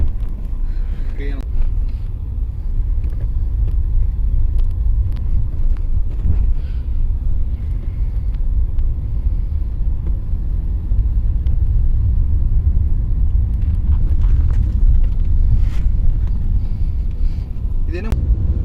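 A Mercedes C-Class E220d diesel car accelerates along a road, heard from inside as a steady deep engine and road rumble with occasional clicks and bumps, under a voice.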